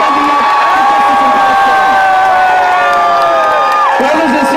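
A protest crowd cheers and whoops loudly and continuously, a dense roar of many voices with shouts rising above it at a rally against alleged BBC bias over Palestine.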